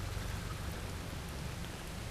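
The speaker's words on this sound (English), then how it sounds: "It's coming down, big time, the rain." Heavy rain pours down steadily at an English estate lake at night, a dense, loud, even hiss with no voices.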